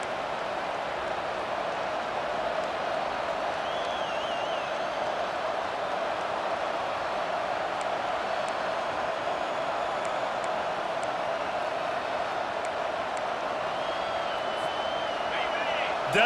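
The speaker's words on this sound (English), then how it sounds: "Decibels rising as the crowd gets behind this defense on third down." Steady roar of a stadium crowd during a third-down play at a college football game against Oregon, a broad continuous wash of massed voices, with occasional whistles and cheers rising above it.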